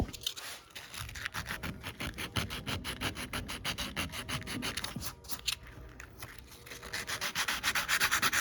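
Sandpaper rubs back and forth over a Porsche 914 body panel to roughen it, a close, rhythmic series of fast scratchy strokes that pause briefly midway before resuming more vigorously.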